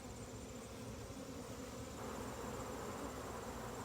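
Honey bees buzz around an open hive box during a hive check, a faint, steady insect drone close by with no voices.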